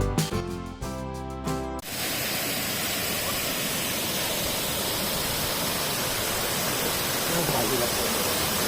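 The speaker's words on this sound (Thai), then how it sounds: "น้ำตกทานสวรรค์ น้ำใสสีเขียวมรกต สวยงามมากครับ" Thansawan waterfall in Phayao, Thailand, a pool of emerald-green water, gives a steady loud broadband rush of falling water that runs on unbroken after a short burst of music at the start.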